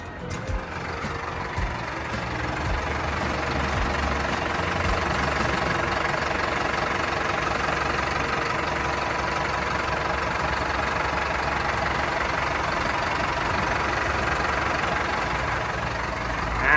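A Caterpillar 936E wheel loader's diesel engine idles steadily and loudly up close, a continuous even rumble with a faint mechanical knock, running on without voices.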